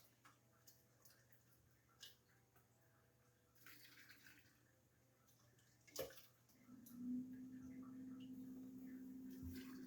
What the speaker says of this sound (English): Seems like that's a lot of water coming out of that